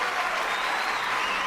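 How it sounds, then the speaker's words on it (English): A short burst of dense, continuous crowd applause, loud and even from start to finish with no voices standing out. "Give y'all a round of applause."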